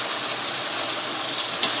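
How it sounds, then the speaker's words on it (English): Hot water from a ladle pours into a pan of sticky lemon chicken, a steady broadband gush lasting under two seconds with a small splash near the end, close and fairly loud, no talk. "We're going to take 1 ladle full of hot water and put that in."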